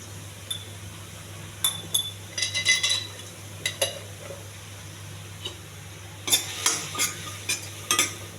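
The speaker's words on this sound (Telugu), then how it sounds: "ఈ గ్రేవీ బాగా కలవాలండి." Gravy is stirred while red rice and chickpeas fry, with a low background sizzle and a constant hum. Scattered clinks and scrapes of a utensil against the pan come in short clusters.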